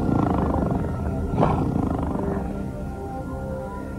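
A 500-pound tiger roars during a stage magic illusion, a deep sustained growl that swells near the middle over a dense, loud background of music and crowd noise.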